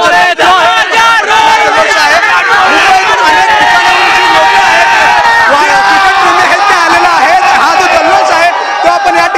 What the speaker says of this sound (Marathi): एक मोठा जल्लोष वानखेडे स्टेडियम वर आपल्याला या ठिकाणी पाहायला मिळतो